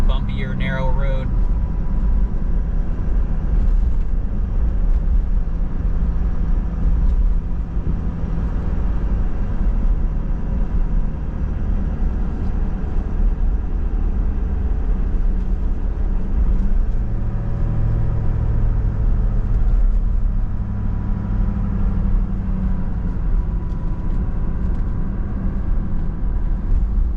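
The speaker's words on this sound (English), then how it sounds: "I'm gonna be driving for a little bit, so you can get a sense of how these perform on kind of a bumpier, narrow road" A Ford Super Duty pickup fitted with Fox 2.0 performance shocks rolls along a bumpy, narrow road, its steady engine and road rumble droning continuously from inside the cab.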